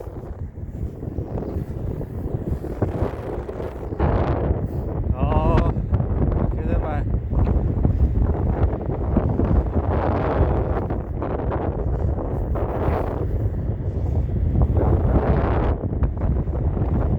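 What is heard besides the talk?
wind blowing while riding a Segway Ninebot E3 Pro scooter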